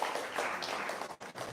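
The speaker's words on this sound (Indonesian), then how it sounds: "Sekali lagi boleh tepuk tangan untuk Ibu Aci." An indoor audience at a religious talk applauds for Ibu Aci, a steady, dense patter of clapping that stays fairly soft and dips briefly near the end.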